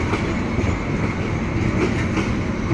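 A passenger train rumbles steadily along the rails, heard from on board as a loud, continuous roar with a faint rhythmic clatter beneath it.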